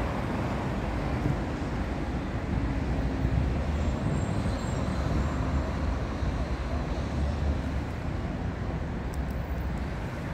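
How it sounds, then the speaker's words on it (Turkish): Light road traffic rolls by in Istanbul, a steady, dense roar of passing vehicles and road noise that stays even and fairly close for the whole stretch, with no clear talking. "bugün cumartesi ya, fazla trafik yok. Trafik akışı güzel."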